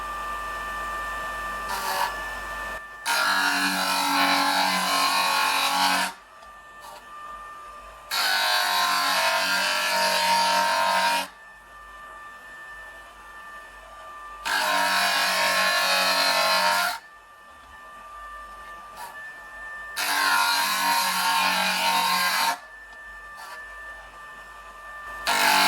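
A JoolTool rotary machine smooths and rounds the edge of a glass cabochon, grinding in four steady bursts of a few seconds each with a constant motor whine between them, close and fairly loud with no talking.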